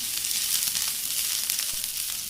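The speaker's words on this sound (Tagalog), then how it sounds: "In a pan, put 2 tablespoons of cooking oil. Put in our ginger and stir fry" Ginger sizzling as it is stir fried in two tablespoons of cooking oil in a pan, a steady close crackling hiss with small pops and faint stirring, no voices.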